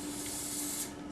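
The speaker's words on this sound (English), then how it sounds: "Got some oil spray." An oil spray can hisses onto souffle dishes in a kitchen, one continuous close spray lasting about a second with no speech.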